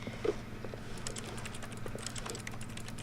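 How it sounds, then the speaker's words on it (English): Quick, light clicks in The Stanley Parable patter like keystrokes over a low steady hum, fairly faint and irregular, with no talking. "when I click, it sounds like typing?"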